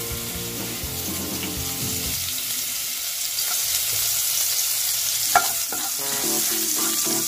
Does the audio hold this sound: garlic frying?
yes